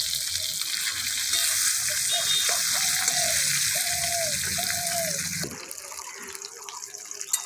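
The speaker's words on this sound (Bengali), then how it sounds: "আমার মাছটা ভাজা হয়ে গেছে কড়া করে ভাজলাম একটু মাছটা" Sarpunti fish hisses and sizzles steadily in hot oil, then the frying noise drops away abruptly near the end.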